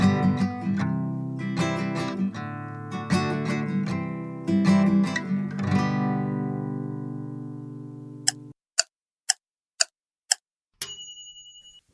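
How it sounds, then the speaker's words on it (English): Strummed guitar plays a lively, rhythmic pattern for several seconds, then stops. A few sharp ticking clicks and a brief high ring follow. "That was the sound of the guitar."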